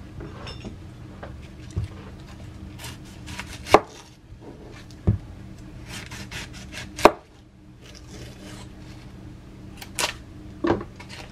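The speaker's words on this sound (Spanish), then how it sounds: "Porque voy a partirle lo que es la cebolla." A knife chops an onion on a cutting board in a home kitchen, with irregular sharp knocks, some loud and some soft, close up and alone with no talking.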